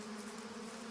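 Male bees buzz through the air in early spring, a steady, droning hum that holds unbroken and fairly faint for the whole moment.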